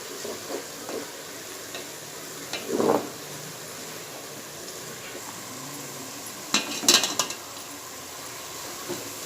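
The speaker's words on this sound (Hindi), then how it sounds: "ये देखिए, ब्रिस्ता हो गया है। अभी और सिर्फ 1 से 2 मिनट में इसे तलूँगी।" Sliced onions frying down to crisp golden birista for fish biryani: a faint, steady sizzle with a few soft stirring scrapes and light metallic clinks against the pan.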